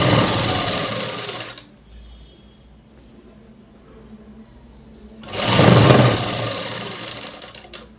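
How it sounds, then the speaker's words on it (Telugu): A sewing machine stitches along a jeans collar, running in two loud close bursts of rapid buzzing separated by a few seconds of quiet with faint background sounds. "ఈ చివరి నుంచి ఇంకా ఈ చివరి వరకు అనేది కుట్టుకుంటూ వచ్చేసేయడమేనండి"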